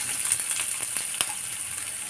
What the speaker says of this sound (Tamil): நல்லா கடுகு உளுந்தம் பருப்பு நல்லா பொரிக்கட்டும்.